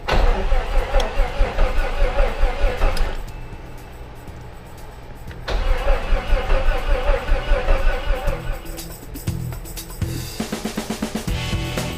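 Jeep Cherokee XJ engine that has sat for 12 years cranks and catches, running rough with rhythmic pulsing and revving, dipping briefly before firing up again, loud and close with no talk.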